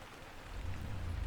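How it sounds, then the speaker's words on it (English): Steady rain drums on a truck windshield, a dense wash of pattering that swells louder partway through, with a low rumble underneath and no voices. "listening to the rain drum on the windshield"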